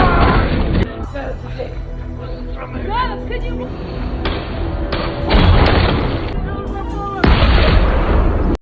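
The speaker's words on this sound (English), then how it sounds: "suddenly, a sniper fires at them" Sniper rifle shots in a war film, heard as sharp, heavy bangs and thuds that strike in a few separate bursts beneath loud narration and dramatic soundtrack.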